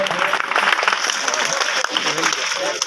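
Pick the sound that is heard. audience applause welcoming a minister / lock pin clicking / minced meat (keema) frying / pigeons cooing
audience applause welcoming a minister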